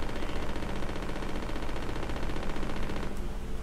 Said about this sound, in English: rapid fire gun